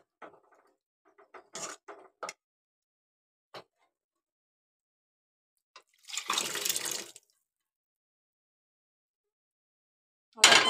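Water is poured into a pot of chickpea curry in one brief splashing pour lasting about a second, surrounded by scattered faint clinks and taps of utensils and a final sharp clatter, with quiet gaps between.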